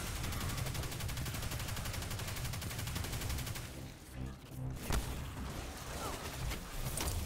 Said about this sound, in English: let this Drake shoot me